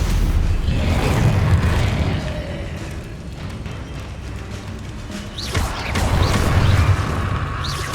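A Confringo blasting curse in Hogwarts Legacy, a heavy rumbling explosion that booms, fades, then erupts again with another loud blast, with crackling debris over the low roar.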